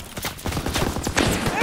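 Rapid, dense machine gun bursts crackle without pause in a World War II shooter game, Call of Duty: WWII, loud and close, with battlefield shouting mixed in.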